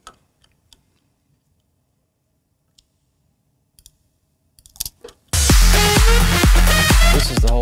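A full mastered music track bursts in loud and dense partway through, after several seconds of near silence broken only by scattered faint clicks and ticks.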